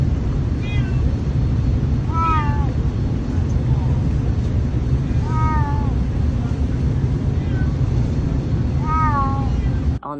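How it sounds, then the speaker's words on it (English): Cats meow repeatedly inside an airplane cabin, about five rising-and-falling cries spaced a couple of seconds apart, over a constant loud engine drone. "my cats definitely meowed a lot"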